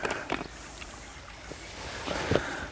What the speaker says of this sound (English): Give the water a shake.